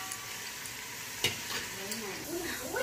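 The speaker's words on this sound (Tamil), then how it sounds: "இப்போ வந்து வெங்காயம் வதங்கிட்டு இருக்குது." Onions fry in oil and ghee for biryani, giving a soft, steady sizzle broken by a scrape or two from a stirring spoon, close by and fairly quiet, with no talk.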